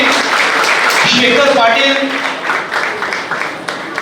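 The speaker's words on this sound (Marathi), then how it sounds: "जरा जोरदार टाळ्या वाजवले युवा पिढीसाठी" An audience applauds loudly and steadily at a stage event while an announcer's voice calls out over the clapping.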